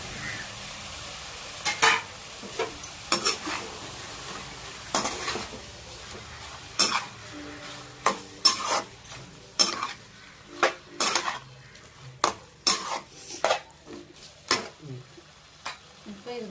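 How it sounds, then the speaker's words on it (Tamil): Chicken frying with tomatoes in a pan, stirred with a metal utensil: repeated sharp scrapes and clinks against the pan ring out over a faint steady sizzle, irregular and close, with occasional speech. "தக்காளி போட்டு நல்லா ஃப்ரை பண்ணிவிட்டு இப்போ கறியை போட்டுக்கலாம்."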